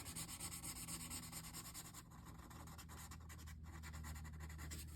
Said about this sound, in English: You can see how that tortillon stick is really blending where I've shaded in with the pencil.